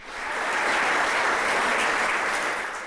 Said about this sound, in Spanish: Eso, denle un aplauso